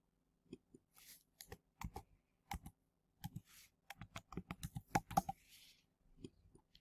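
Computer keyboard keys clatter in quick, uneven bursts as a university username and password are typed, close up and crisp with short pauses between runs of keystrokes.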